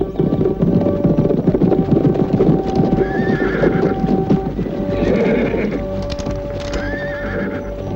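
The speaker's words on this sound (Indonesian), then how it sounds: "ada 10 orang naik kuda sedang menuju kemari" In a radio drama effect, about ten horsemen approach with steady clip-clopping hooves and several whinnies and neighs, loud and close, with no talking.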